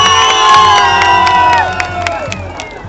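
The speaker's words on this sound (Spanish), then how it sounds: "que vengan los aplausos bien fuertes y bien largos" At the grand final of the Tipaki Tipaki Pampas 2023 contest in Peru, a large crowd cheers and whoops loudly and without a break, shrill voices rising together and then easing slightly toward the end.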